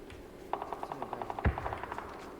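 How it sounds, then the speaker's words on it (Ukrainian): A rapid burst of automatic gunfire, evenly spaced shots in a steady rhythm, with one heavier blast in the middle, sounding like game audio. "стріляють."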